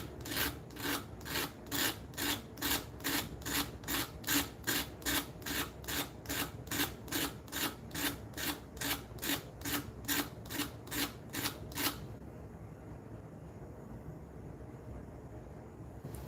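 Sandpaper rubs a 45-degree corner on a wooden mallet in quick, even back-and-forth strokes, close and steady for about twelve seconds, then stops, leaving quiet room tone.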